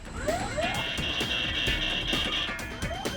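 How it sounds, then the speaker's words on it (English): Overlapping electronic cockpit alarms beep and wail continuously in an airplane, a steady high tone sounding over repeated chirps and clicks. "With alarms, sirens, and verbal warnings going off"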